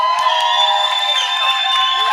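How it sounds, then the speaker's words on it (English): A crowd cheers loudly on request for a group called the over-unders, a sustained wash of shouting, whooping and bright voices with a few sharp claps at the start. "let's make some noise for the over-unders"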